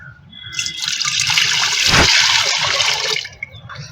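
Liquid fish amino acid fertilizer is rinsed and strained, a loud rushing pour of liquid swelling over a couple of seconds, then tapering to trickles and drips.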